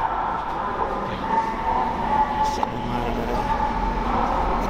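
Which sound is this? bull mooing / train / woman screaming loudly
train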